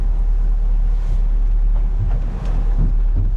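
A Tasman 80 boat's diesel engine idles at 500 RPM, heading into the tide through big waves in Bass Strait, Australia; a steady low drone sits under loud wind and water noise.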